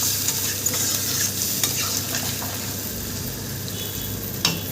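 Jackfruit curry sautéing in a hot pan gives a steady loud sizzle, with a spoon scraping and stirring through it and occasional sharp ticks of the utensil against the pan.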